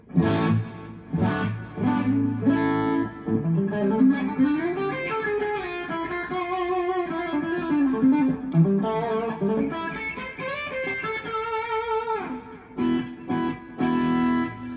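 Charvel electric guitar playing sustained chords and melodic lines through a Bogner amp, washed in a plate reverb tail with faint repeating tape-delay echoes, steady and moderately loud throughout.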